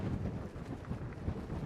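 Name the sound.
strong wind blowing on a clifftop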